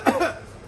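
A single short cough from a person eating bread at breakfast, one abrupt burst that trails off, close and fairly loud with no talk over it.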